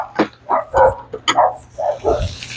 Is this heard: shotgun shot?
no